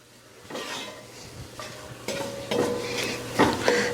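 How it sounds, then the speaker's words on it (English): Paprika and oregano get stirred into vegetables sautéing in a pan, with soft sizzling under a few distinct scraping strokes of a utensil against the cookware, close and fairly quiet. "we're going to mix that in to the vegetables"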